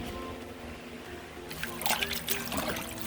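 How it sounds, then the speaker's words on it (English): Water running and splashing as collard greens soak in a basin of salt water, a steady trickle that turns into louder sloshing and dribbling halfway through, close up. "soaking my collard greens in some salt water"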